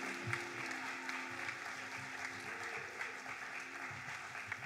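A church congregation claps in steady, sustained applause for the whole stretch, dense and fairly close, with no talking over it.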